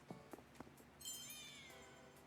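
A lucky cat item in Animal Crossing: New Horizons gives a short, faint meow after a few soft taps, the tone sliding downward and fading quietly.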